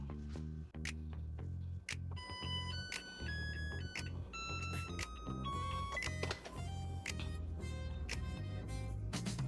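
A rice cooker plays its electronic tune, a bright sequence of beeping melody notes with steady rhythm over a constant low background hum.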